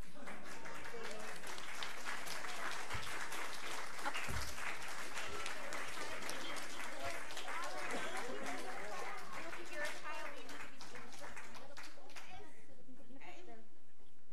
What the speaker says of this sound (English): so we can have some applause and some final picture moments